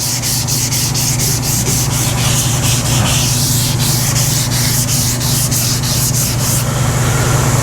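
Someone hand sanding the curved body panels of a 1952 Chevy with 320-grit sandpaper makes a brisk, rhythmic rasp of repeated strokes. The sound is close and continuous, over a low steady hum.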